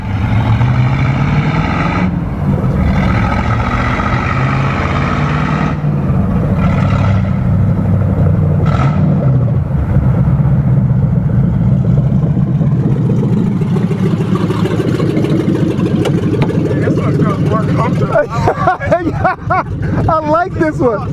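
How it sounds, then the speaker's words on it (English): A turbocharged Ford Crown Victoria 4.6 engine and exhaust rumble loudly and continuously, with the throttle blipped a few times and a rough, crackling burble toward the end. "Yeah, the exhaust is whack."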